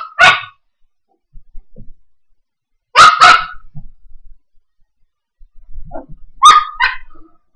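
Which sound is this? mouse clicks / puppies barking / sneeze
puppies barking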